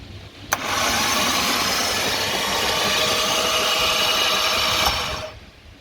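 A hydrolocked engine of a 2015 Jaguar F-Type cranks over with a steady, rough whirring for several seconds, close by, starting and stopping abruptly with clicks at each end.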